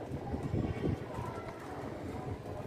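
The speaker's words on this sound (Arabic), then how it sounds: "فرد حمام ستيت بيصوت اهو." A Stati-type domestic pigeon coos in a loft during a flight round, low soft calls near the mic, with a steady background hum and no clear talk over it.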